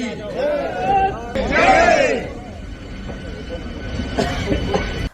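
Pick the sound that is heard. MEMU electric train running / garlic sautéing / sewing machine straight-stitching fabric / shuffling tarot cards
MEMU electric train running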